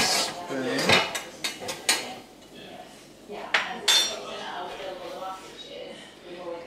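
Metal spoon and dishes clink and clatter in a kitchen during rice preparation, a series of sharp bright knocks early on, then quieter handling, with a person talking throughout.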